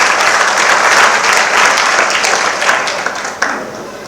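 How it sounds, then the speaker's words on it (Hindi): An audience at a Jain religious discourse gathering in Agra applauds in a loud, dense burst of clapping that holds steady and then slowly tapers off. "बजाओ अपने लिए ताली"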